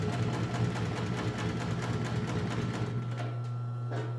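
A PFAFF 545 H4 industrial sewing machine stitching through heavy military-type canvas, a steady close mechanical hum with rapid needle clatter that continues without a break and eases slightly near the end, with no voices.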